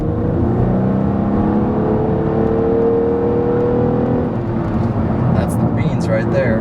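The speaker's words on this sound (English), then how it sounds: "You get that nice sound of the naturally aspirated V6" Nissan Maxima sedan with a naturally aspirated V6 accelerating, a steady loud engine drone heard from inside the car that rises through the gears, with someone talking over it.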